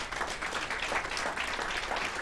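A banquet audience at a golden anniversary reunion for the 1978 medical class applauds steadily, a dense, sustained wash of many hands clapping at even loudness throughout.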